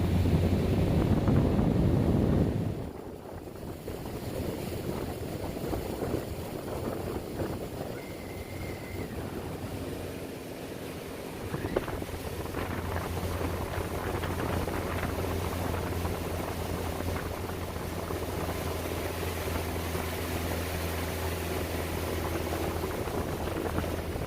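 A small boat out on the Mississippi River: a steady low motor hum runs beneath gusting wind and water wash, rougher at first, then settling into an even drone with no voices.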